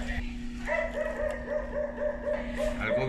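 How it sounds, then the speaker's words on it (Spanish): A dog barks repeatedly at a Mexican street food stand selling gorditas, a steady run of moderately close barks over a busy background hum with some voices. "Algo vio ese perro, anda ladre y ladre."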